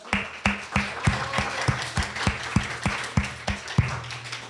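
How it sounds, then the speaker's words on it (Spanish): A small audience at a Spanish-language public speaking training session claps in a steady rhythmic beat of sharp hand claps, close and moderately loud. "pues un aplauso para ustedes."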